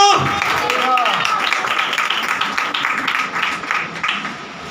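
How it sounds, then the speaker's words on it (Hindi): Loud crowd applause at a Christian church gathering, with lots of clapping hands filling the space continuously and slowly easing off, with a brief voice at the start. "जोरदार तालियां"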